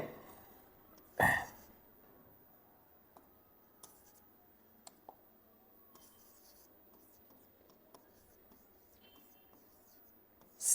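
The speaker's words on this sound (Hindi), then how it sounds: "अब पहले कुछ एग्जाम्पल मैं लिखता हूं" A teacher writes English example sentences for a present perfect lesson, probably on a board: faint, sparse scratchy strokes and small taps in a quiet room, with one sharp bump near the start and no talking.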